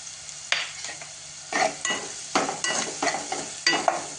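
Onion sautéed with salt in a pan, a run of distinct spatula scrapes and stirring strokes over a light sizzle, close and rhythmic, no talking.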